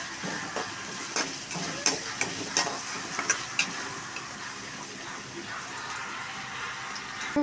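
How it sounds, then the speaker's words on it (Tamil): Onions frying in a pan, a steady sizzle with scattered scrapes and knocks as a spoon stirs them, busiest early and then settling into plain frying hiss. "முதல்ல வெங்காயத்தை நல்லா ஃப்ரை பண்ணிக்கணும்."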